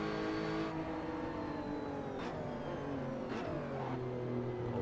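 A GT4-class race car with a 4-litre engine in the Assetto Corsa simulator at Kyalami hums steadily through a sustained drone, its pitch rising and dipping with throttle changes and gearshifts, with no talk over it.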